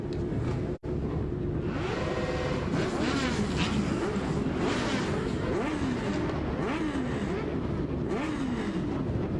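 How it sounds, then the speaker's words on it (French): Modified Legends race car engines rev and roar together at the Grand Prix de Trois-Rivières, a dense, loud, sustained drone of several engines with rising and falling revs and no talk. "Pilote, démarrez vos moteurs."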